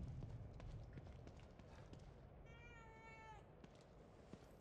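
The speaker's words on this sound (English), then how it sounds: "Is that a cat? What up, cat? Are you a friendly cat?" A single drawn-out cat meow, faint and mid-distance, rises out of a dense gameplay soundscape in The Evil Within 2, with footsteps and ambient noise continuing underneath.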